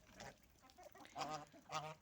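A grey goose honking two or three times in drawn-out, nasal calls, fairly close, with faint background noise between calls.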